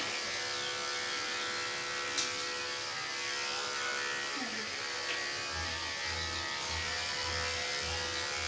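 Electric dog clippers with a 30 blade run steadily while trimming under a dog's ear toward the neck, a continuous close buzz with a low pulsing hum in the later seconds and faint voices in the background.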